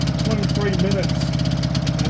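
A biogas generator engine running on compressed biogas chugs at an even, low idle with a pulsing rhythm, close by and fairly loud, its revs dropping as tank pressure runs low.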